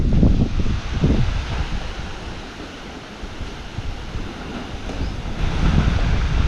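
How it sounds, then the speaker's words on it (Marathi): Strong, steady wind gusting outdoors around a homestay in the cold season, a loud broadband rush that swells at the start, eases in the middle and builds again toward the end, with no voices. "भरपूर म्हणजे भरपूर हवा सुटायला लागले कालपासून"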